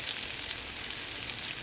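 Finely chopped onions and curry leaves fry in a kadhai with cumin, giving a steady, close hiss of sizzling oil with no talking.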